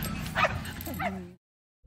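A dog at a dock diving event gives a couple of close, loud yelping whines that rise and fall in pitch, then falls silent before a brief sound returns at the end.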